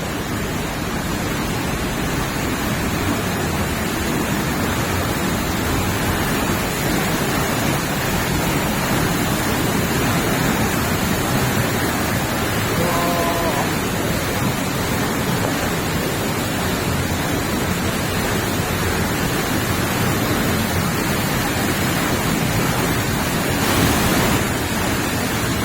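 Water from a waterfall at Riva del Garda on Lake Garda rushes continuously, a dense, loud, unbroken roar with no voices, steady throughout.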